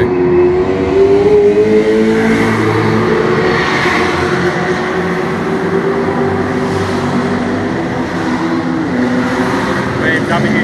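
Race cars accelerate hard past a circuit's pit entry as racing resumes after a safety car period, a continuous loud layered engine roar from several cars with rising revs, up close throughout.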